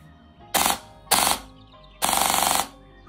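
An airsoft AEG with a high-torque motor fires three full-auto bursts, two short and one longer, each a loud rapid mechanical rattle up close, with brief quiet gaps between them.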